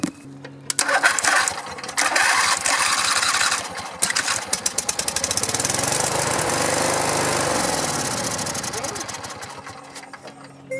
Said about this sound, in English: Just a test, see if it'll run,